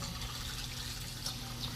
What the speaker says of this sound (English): We're then going to add some boiling water.